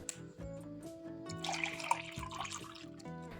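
Warm water pours steadily into a container, a soft continuous trickle and splash that swells midway and carries faint ringing tones, heard close and alone.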